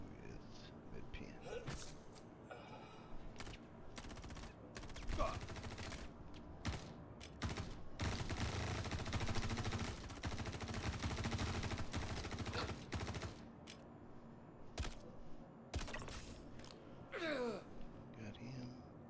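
Coda pistol gunfire during a bunker mission in the video game Star Citizen, with rapid sharp shots in bursts and singles, some clustered into quick volleys, while someone talks quietly in between.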